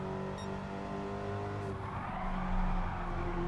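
Race car in the video game Gran Turismo 7 skids as the handbrake kicks the rear out, tyres squealing over a steady engine drone that swells toward the end, no talk.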